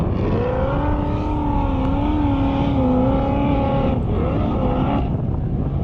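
High-horsepower dune vehicles accelerating across the sand dunes at Glamis, with loud, continuous engine roar whose pitch rises and dips as the throttle changes, staying prominent throughout with no talking.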